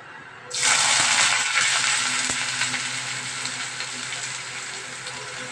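Nigella seeds tempering in hot oil in a home kitchen: a sudden loud sizzle bursts in and holds as a steady, bright crackling hiss that eases only slightly, with no talking.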